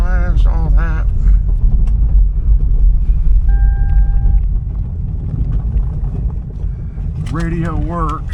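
A 2004 Lexus LS430 V8 idles with a steady low rumble throughout, while someone talks at the start and again near the end.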